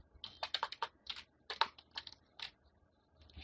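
Close, crisp clicks of someone typing C# code on a computer keyboard, an irregular run of quick keystrokes with brief pauses, no talk.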